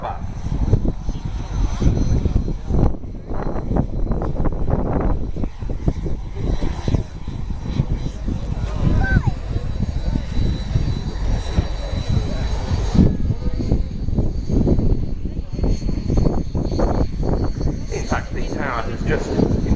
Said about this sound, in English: So the Red Arrows completing their landing roll.